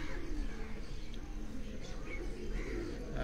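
Pigeons coo faintly at a breeder's farm house, low soft throaty calls under a steady background hum, with quiet voices nearby.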